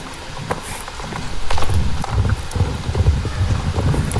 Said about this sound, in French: J'ai oublié que mon cheval il s'appelait Charcot.